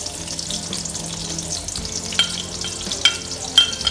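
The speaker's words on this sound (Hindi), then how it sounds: "अब हमने इसमें प्याज ऐड कर दी है।" Sliced onions frying in about a third cup of oil for beef pulao, a close, steady sizzle with stirring scrapes and a few sharp utensil clicks toward the end, no voices.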